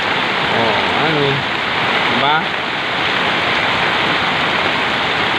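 Heavy rain pours steadily onto a flooded road where the water runs like a river, a dense continuous hiss, with a voice talking briefly near the start.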